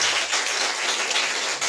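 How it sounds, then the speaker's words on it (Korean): Brief burst of audience applause at a gallery talk event for a Nam June Paik special exhibition, a dense even wash of clapping without voices. "박수 한번 부탁드립니다."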